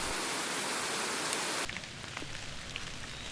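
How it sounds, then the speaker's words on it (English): Rain falls in a dense hiss on woodland that abruptly drops to softer scattered patter of drops, steady and fairly close, with no talking. "You could hear the raindrops in the woods right now."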